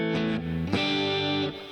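Electric guitar played through a NUX Mighty Air amp on its overdrive setting, a sustained gritty chord struck, then restruck and left ringing, loud and close with no voice.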